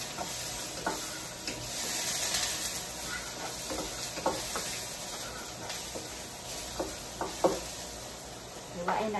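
Chopped garlic stir-fried in a pan gives a steady, close sizzling hiss, broken by scraping knocks from the stirring utensil.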